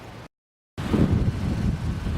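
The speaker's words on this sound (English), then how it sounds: "it's a bit windy today, obviously." Blustery wind buffets the microphone in an open field during a metal-detecting dig, a loud low roar broken by a brief silent dropout before the gusting resumes.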